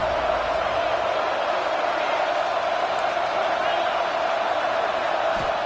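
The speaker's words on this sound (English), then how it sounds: "The Red Raider crowd rising to the occasion to help its defense on 3rd down." A packed Texas Tech Red Raider stadium crowd roars continuously and loudly during a college football game against Clemson, a sustained wall of cheering as the defense faces third down.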